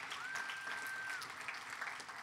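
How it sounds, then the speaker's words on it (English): Quiet, distant applause from the audience at a carbon tax forum, a soft, continuous patter of clapping heard from afar. "If we could give them another round of applause,"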